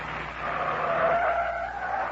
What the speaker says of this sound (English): Stop the car there a minute, Officer Tuesday.